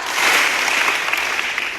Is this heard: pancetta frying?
no